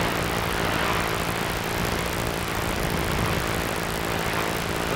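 A 1930s Tiger Moth biplane's engine and propeller drone loud and steady in flight, a dense continuous roar heard from the open cockpit with no pauses.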